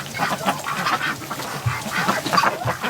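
Several large Muscovy ducks making breathy hissing calls and low raspy chatter, close by, in an irregular back-and-forth with no human voices.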